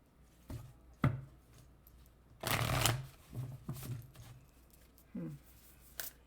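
A deck of oracle cards is shuffled in a quick riffle, with soft taps and handling sounds before and after, close and quiet.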